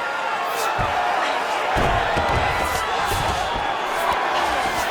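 A steady, loud arena crowd roar fills a women's strawweight bout in the UFC 5 video game on PS5, with commentators' voices talking over the constant murmur and swell.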